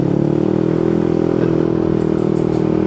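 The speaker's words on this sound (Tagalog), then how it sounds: "Narinig natin ating muffler, hindi na boring." A Yamaha NMAX 155 scooter fitted with an open muffler idles and revs with a deep, steady, throaty rumble, loud and close throughout with no break.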